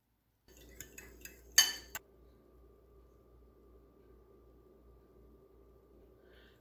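A spoon clinks and scrapes against a bowl while a spice marinade with lemon is mixed, a few quick metallic taps and one louder clatter, then near silence with a faint hum.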